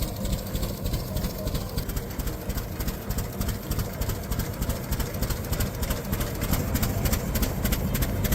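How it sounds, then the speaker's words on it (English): A 1905 Otto stationary engine, restarted after 90 years of disuse, runs with a steady, heavy thumping rhythm of combustion strokes and flywheel beats, loud and continuous, with no talk. "The flywheel's centrifugal force produces hammer-like combustion impacts that slam into the ground"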